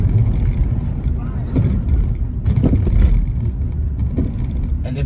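A car rolling slowly down a street, a steady low engine rumble heard from inside or close by, with people talking over it.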